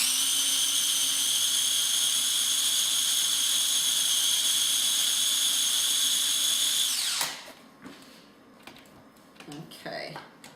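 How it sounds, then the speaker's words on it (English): A blender whirs loudly and steadily as it purees a raw chocolate coconut pudding mixture, then cuts off abruptly about two-thirds through, leaving quieter clatter and a voice. "so it's blending up pretty good"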